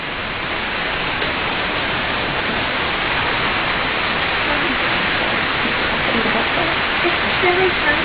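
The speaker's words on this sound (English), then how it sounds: "let's go wash our hands" Tap water runs steadily at a sink while hands are washed, a dense continuous hiss lasting throughout, fairly close and loud with no pauses.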